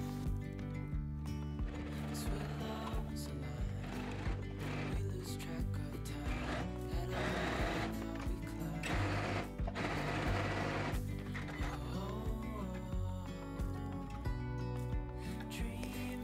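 A sewing machine stitches two labels into the side seam of a simple dress. Close and loud, it runs in a rapid mechanical rhythm, in bursts that speed up and pause, for about sixteen seconds.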